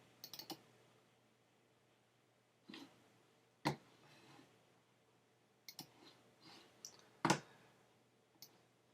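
Mouse clicks at a computer while editing in Photoshop, several sharp close clicks in small clusters, including quick double clicks, spaced apart over near silence.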